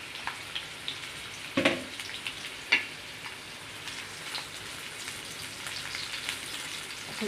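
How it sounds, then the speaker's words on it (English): Bitter gourd pieces fry in hot oil for an Indian dry karela dish, giving a steady, fairly quiet sizzle throughout with a couple of brief louder crackles or spatters. "Now we've used some oil over here, heating it up. Put bitter gourds in it."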